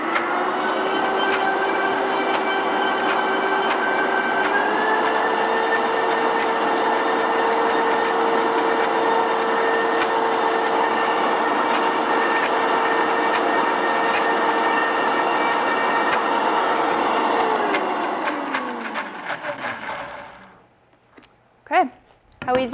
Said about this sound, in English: so we're just gonna blend it a little bit more